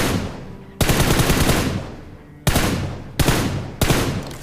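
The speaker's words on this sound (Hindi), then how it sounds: "अब यहाँ कंपाउंड की साइड से फायरिंग आती है" Gunfire from the compound side in the video game BGMI arrives as four sharp, loud bursts. The first is a sustained automatic volley, followed by shorter volleys that start abruptly and fade out, with no voices.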